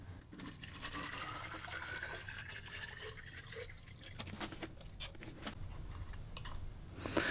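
Liquid hydroponic nutrient solution pours steadily into a container with a gurgling, splashing stream, close by, lasting several seconds with small knocks and rustles.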